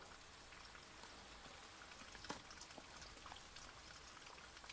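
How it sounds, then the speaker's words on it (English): Steady rain falls in the video game Blue Prince, a dense, even hiss of drops with a few louder close patters, heard alone for several seconds. "I love when it rains."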